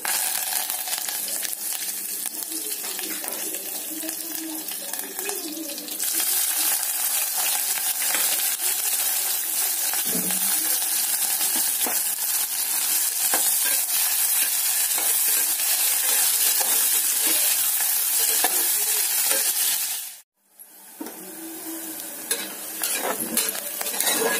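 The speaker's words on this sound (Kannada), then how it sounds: "ಬಿಸಿಯಾಗಿದೆ, ಇದಕ್ಕೆ ನಾನು ಜೀರಿಗೆ ಹಾಕ್ತಾ ಇದ್ದೀನಿ" Cumin seeds and curry leaves crackle in hot oil in a pan, a dense steady sizzle with stirring scrapes, abruptly hushing near the end before resuming more softly.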